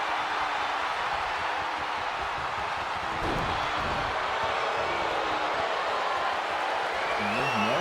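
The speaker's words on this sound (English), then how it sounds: "Crowd very obviously behind Rhea Ripley" Video game wrestling arena crowd at a Queen of the Ring match, a steady roar of cheering and noise held at an even level throughout, with a brief swell near the middle.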